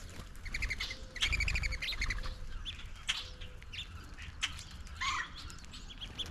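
Several small birds at a feeder chirp and tweet in quick bursts nearby, with overlapping calls and a soft flutter of wings, no talking.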